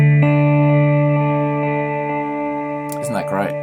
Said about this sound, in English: So my clean sound again, pretty straightforward, Tau Reverb.